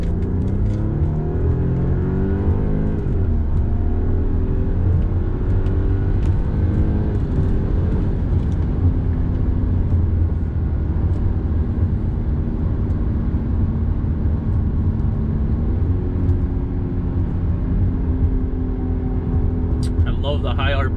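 Car accelerating hard with steering set to dynamic mode, engine note climbing steadily through the revs in long pulls from inside the cabin, with a voice talking over it.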